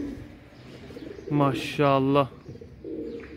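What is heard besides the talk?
pigeon that has just landed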